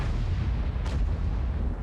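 A single heavy cannon blast from an STRV 103B tank in a video game, a deep booming roar that fills the short clip with a rumbling low-end tail.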